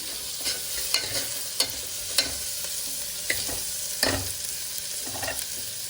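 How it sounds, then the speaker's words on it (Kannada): Onions frying and being stirred in a pan for chicken gravy, a steady sizzle broken by several sharp spoon scrapes and clacks against the metal, close and fairly loud with no talking. "ಈರುಳ್ಳಿ ಫುಲ್ ಕಲರ್ ಚೇಂಜ್ ಆಗೋವರೆಗೂ ಹುರ್ಕೋಬೇಕು"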